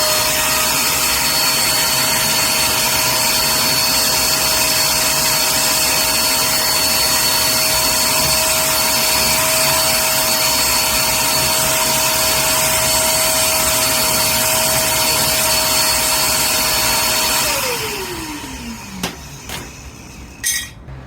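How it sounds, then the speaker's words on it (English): A Vivor shop vac roars steadily and loudly while cleaning out a Pit Boss Lexington 500 Onyx grill, its whine holding for about seventeen seconds before it switches off and winds down, followed by a few light knocks. "got my handy dandy Vivor shop vac"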